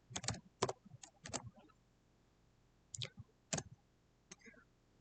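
Keys clacking on a computer keyboard while a git commit command is entered, sharp clicks in quick clusters with short pauses, close and fairly quiet, no talking.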